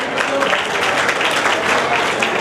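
Sustained audience applause at a Keer community student honours ceremony in Bhilwara, dense steady clapping from a crowd filling the whole stretch at even loudness.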